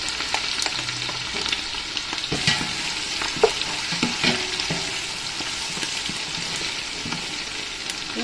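Garlic sautés in a pan for a chicken sopas, a steady, fairly loud sizzle with crackling pops and occasional stirring clinks throughout, with no talk.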